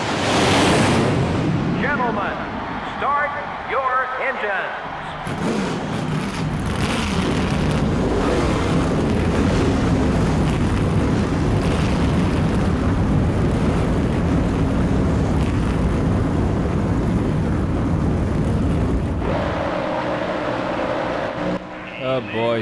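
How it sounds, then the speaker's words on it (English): Engines of a field of NASCAR stock cars starting up in the video game NASCAR Thunder 2003, a loud, dense roar building and holding, with a voice speaking over the start. "Gentlemen, start your engines."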